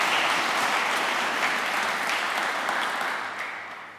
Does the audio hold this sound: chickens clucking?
no